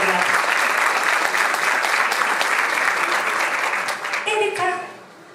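An audience applauds at a talk on children's stories, with dense, steady clapping that holds strong for about four seconds before thinning and fading out, while a voice speaks briefly near the end.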